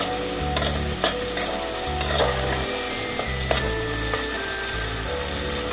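Mustard paste and garlic paste frying in oil in a pan, a dense, loud sizzle with the repeated scrape and knock of a spatula stirring, close by with no voices.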